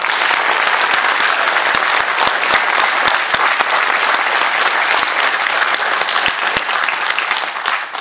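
Sustained audience applause at a Passion play performance, a dense steady clapping from a large crowd filling the whole stretch at even loudness.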